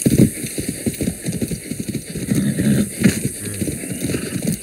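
Horse hooves clip-clopping in Far Cry 6, a brisk, close rhythmic patter of hoofbeats with faint mechanical rattles, continuing steadily throughout with no speech.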